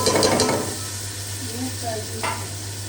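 Garlic-ginger paste frying in ghee in a pan gives a steady, close sizzle, with stirring and faint scraping over it.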